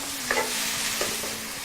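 Red bell peppers sizzle steadily in a hot pan during a stir fry, with a close, continuous hiss broken by brief stirring scrapes and no talk.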